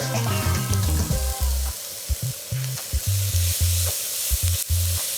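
Minced beef browning in a hot pan for spaghetti bolognaise: a loud, constant close-up sizzle with intermittent spatula scrapes and taps as the meat is broken up, no speech.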